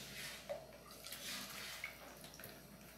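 A litre of used, somewhat worn-out cooking oil is poured into a container for homemade soap, giving a steady, faint liquid gurgle with a couple of small splashes, close by and with no talking.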